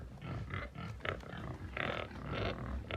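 A pig on a Jamaican backyard farm grunts repeatedly in short rough bursts, close and steady, amid continuous outdoor background noise.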